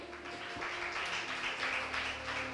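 Crowd applause welcoming young school quiz team members from Bushenyi at a school quiz contest, a dense steady clatter of many hands sustained throughout, with a faint hum underneath.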